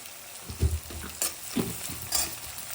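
Tomatoes and flattened rice (poha) fry in a pan with salt, turmeric and a little sugar, giving a steady low sizzle broken by several soft stirring scrapes and clinks of a spoon against the pan.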